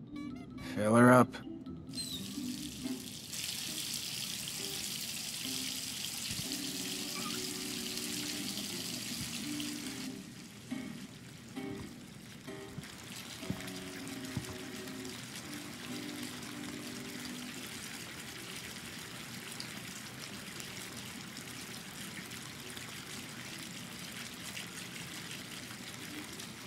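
Steady rushing of water pouring from a hot tap into a bath in the video game Life is Strange fills most of the clip, with a brief sharp clatter at the start and quiet voices underneath.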